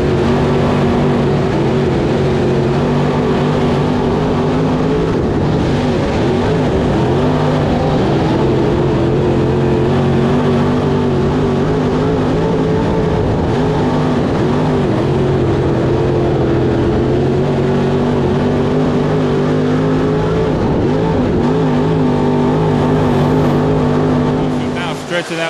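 Race cars at Whynot Motorsports Park scream past three wide toward the flag stand, a loud, continuous engine drone with sustained harmonic whine and shifting pitch, under an ongoing announcer voice.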